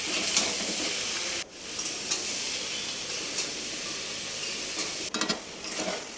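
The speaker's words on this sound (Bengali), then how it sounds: "তার মধ্যে কেটে রাখা আলু চিচিঙে দিয়ে ভালো করে ভেজে নিতে হবে" Cut potato and snake gourd frying in oil spiced with salt, turmeric and chili powder, a loud, dense, continuous sizzle broken by brief stirring knocks.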